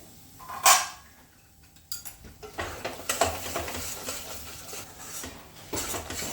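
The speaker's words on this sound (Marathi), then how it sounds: "गॅस एकदम बारीक करते मी आपण याला हलवून घेऊया" Masala for mattar paneer stirred in a pan over a low flame, with a few scraping clinks of a utensil against metal and a soft continuous sizzle. The sound is fairly faint, with no talk.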